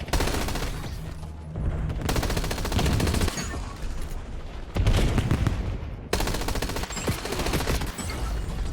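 Peacekeeper gun in the video game Black Ops 7 fires in rapid automatic bursts, loud and close, with brief pauses between volleys and no voices over it.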